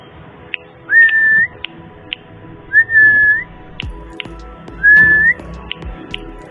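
Three high, rising whistled chirps from a bar-winged prinia chick, spaced evenly, with faint clicks and soft ticking between them.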